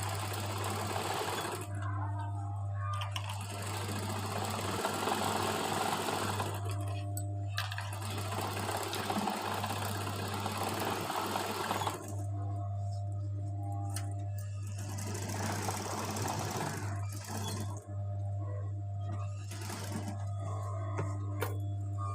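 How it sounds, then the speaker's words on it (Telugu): A sewing machine stitches around the neckline of a cotton blouse in repeated bursts of rapid, rhythmic whirring, separated by short pauses, against a constant low hum. "ఇలా మొత్తం నెక్ రౌండ్ అంతా ఒకేలా ఉండేలా స్టిచ్ చేసుకోండి"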